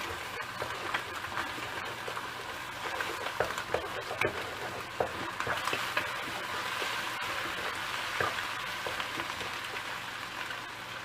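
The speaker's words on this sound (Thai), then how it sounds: "พอไข่เริ่มเซ็ตตัวดีเราก็ยีเลยค่ะ" Eggs scrambled in a hot wok for Thai pad see ew with pork give a steady crackling sizzle, with the spatula scraping and tapping irregularly against the pan, close and continuous with no talking.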